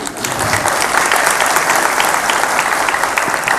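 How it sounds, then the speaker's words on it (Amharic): An audience in a church hall claps loudly and continuously, a dense, even wave of applause close by that holds its level throughout. "ይሄንን እሺ አጨብጭቡላችሁ።"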